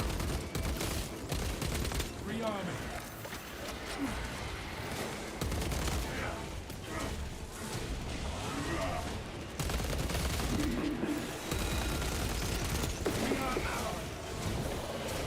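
SMG gunfire in Space Marine 2, fast loud bursts of automatic fire mixed with impacts and battle noise, with a voice talking over it at times.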